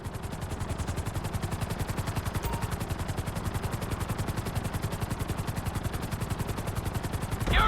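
A helicopter in GTA V flying steadily, its rotor chopping in a fast, even pulse that fills the whole stretch at close range and high volume, with no voices over it.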